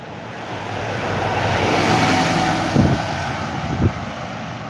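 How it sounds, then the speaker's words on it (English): A bus passes along a street during an outdoor walk, its broad engine rumble swelling and lingering close by, with a couple of brief thumps near the end. "Excuse the bus."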